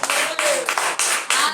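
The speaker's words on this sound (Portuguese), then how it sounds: "Palmas, Senhor." Several rounds of hand clapping in quick bursts during a church service, mixed with voices and a rising sung or shouted tone underneath.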